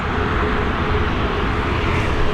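An Aer Lingus Airbus A320 jet airliner departs Dublin Airport, its broad steady engine roar filling the air at a constant loud level with no voices.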